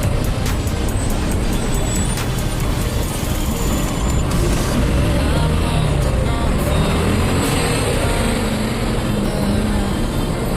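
Dense road traffic passing a moving motorbike, a loud continuous rumble of engines and wind with buses and cars nearby and occasional faint horn tones.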